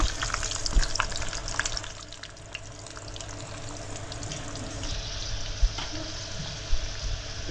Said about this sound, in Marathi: कुरकुरीत होईपर्यंत तळायची